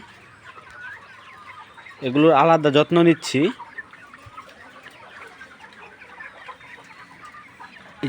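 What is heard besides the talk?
layer chickens clucking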